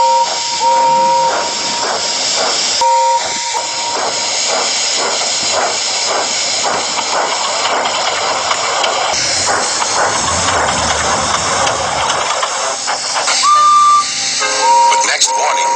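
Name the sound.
steam locomotive hissing steam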